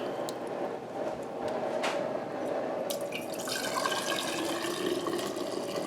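Beef bone broth is ladled out of an Instant Pot in a kitchen, with soft liquid pouring, dripping and splashing sounds against steady background noise.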